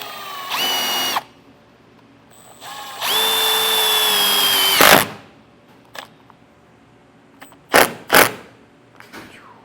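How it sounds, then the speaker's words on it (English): A power drill drives a self-tapping screw into the aluminum channel of an RV slide-out awning on a 2016 Fleetwood Bounder: two loud close whirring bursts, the second longer with its pitch dropping under load, then a few sharp clicks and knocks. "what I'm gonna do is I'm gonna set my self-tapper in this side"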